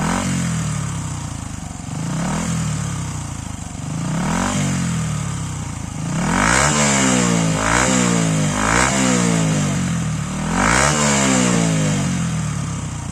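Motorcycle fitted with an Akrapovic slip-on exhaust and dB killer, revved repeatedly while stationary, each loud throttle blip rising and falling in a steady rhythm, with the later revs climbing higher.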